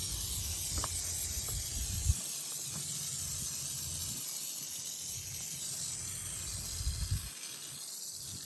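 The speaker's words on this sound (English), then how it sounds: "So we're gonna go ahead and spray it down real good." Cleaner sprayed in a steady, close hiss onto an LS-based car engine, continuing almost the whole time with a few short spurts and brief breaks.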